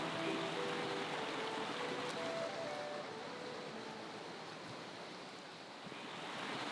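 The River Webburn in spate rushes through Corndon Wood, a continuous broadband roar of fast-flowing water, steady and fairly close, with no voices.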